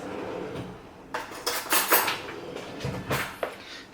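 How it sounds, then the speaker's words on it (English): Spoon stirring cherry honey glaze in a bowl, several light clinks and scrapes of metal against the dish in an irregular rhythm, close and moderately loud, no talking. "Now we're gonna mix."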